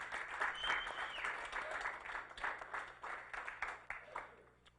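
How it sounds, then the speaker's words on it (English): Audience applause at a Central New York music awards ceremony honoring Hall of Fame nominees, steady dense clapping from a crowd that holds at a fairly even level and gently thins toward the end. "So, another round of applause."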